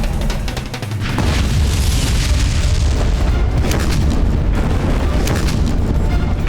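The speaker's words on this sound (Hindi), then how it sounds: "मुगलों ने पुनः तोप के गोले दागना आरंभ कर दिया है।" Cannon balls are fired in a battle against Mughal forces, staged as a television serial effect, with a sustained loud, rumbling barrage of booms close by that continues without a break and has no talk over it.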